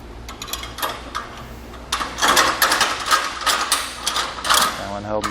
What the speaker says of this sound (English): So these are going to be tightened down with a 19 millimeter or a 3/4 inch wrench and socket.